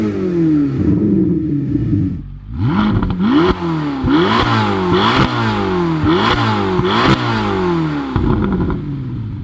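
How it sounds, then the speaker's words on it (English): Loud, throaty Chevrolet Corvette ZR1 engine revving through repeated rising gear pulls, each climb ending in a sharp shift, the exhaust rasping up close. "We need to talk a bit more about the exhaust note. It sounds good."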